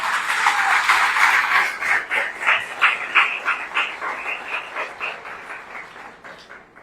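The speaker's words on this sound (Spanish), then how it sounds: "Vamos a darle un fuerte aplauso a Cristo." A church congregation gives a strong round of applause that swells quickly, stays dense for a few seconds, then settles into a rhythmic, pulsing clap before fading out, with no talk over it.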